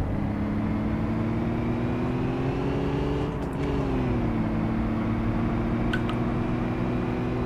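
An Audi R8 Spyder engine in City Car Driving holds a steady, loud mid-revving drone, rising gently before a brief dip and recovery, with no voices over it.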